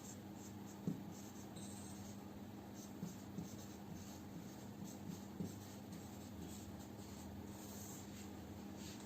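Pen or chalk scratching out a chemical formula, calcium phosphate, in a seventh-grade chemistry lesson, a soft steady rubbing with a few light taps, close and quiet with no talking.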